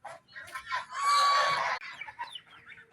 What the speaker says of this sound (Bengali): এই হলো আমাদের রাজহাঁস, এটা আমাদের বাড়ির সামনে